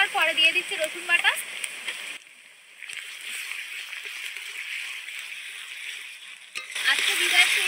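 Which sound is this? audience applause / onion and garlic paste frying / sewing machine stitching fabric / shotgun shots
onion and garlic paste frying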